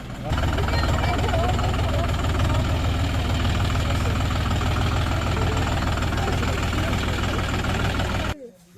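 A new John Deere 5045D 4x4 Gear Pro tractor with a 46 hp engine runs at a steady, loud, close idle with a low throbbing hum, then cuts off abruptly near the end. Voices are faintly audible alongside.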